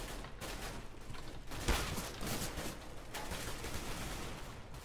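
Steyr AUG rifle fire in Counter-Strike: Global Offensive during an Arms Race match, as repeated sharp bursts of shots with a louder crack near the middle, set against a steady din of in-game noise.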